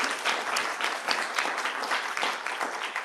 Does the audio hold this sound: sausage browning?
no